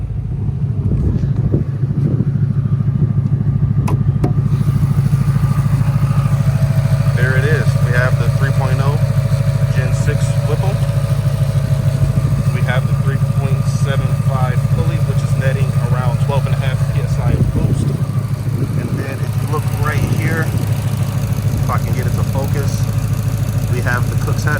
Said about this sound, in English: we have the factory active exhaust, which to me is a phenomenal setup.